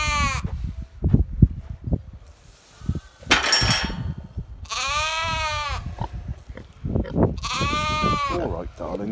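Blue Faced Leicester lambs bleat on a farm, two long wavering cries standing out clearly amid nearby shuffling, handling noises and a person talking close by.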